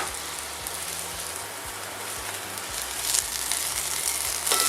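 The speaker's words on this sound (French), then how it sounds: "on attend que l'alcool soit bien brûlé" Armagnac flambéing in a pan for andouillette in old-style mustard sauce, a steady close sizzle and crackle with a soft rushing burn, swelling slightly louder toward the end, no voices.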